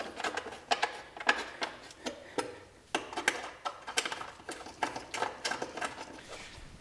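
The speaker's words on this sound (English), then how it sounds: "With the socket, I'm going to go ahead and start these." Socket wrench spinning battery hold-down bolts on an Acura NSX, a run of quick close ratcheting clicks and ticks in irregular bursts, fairly quiet with no talk.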